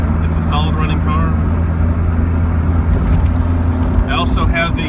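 A 1989 Toyota Supra with a 2JZ engine runs at a steady idle, a close, constant low droning hum with faint higher engine whine and muffled voices briefly in the background.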